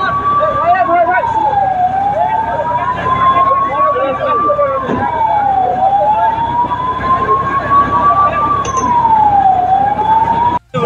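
A fire engine's siren wails at the scene of a gas cylinder blast fire in Durgapur, rising and falling in long, slow sweeps, loud and close over street and engine rumble.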